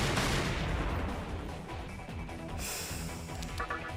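Gunfire from a gun skill in Shin Megami Tensei III Nocturne HD Remaster battle, a dense loud burst of shots and impacts filling the whole stretch with no pause, layered game effects over it.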